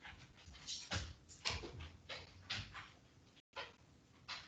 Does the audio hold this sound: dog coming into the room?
yes